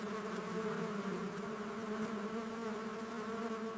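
Bees buzz in a steady, continuous drone that holds at an even loudness throughout, with no talking over it.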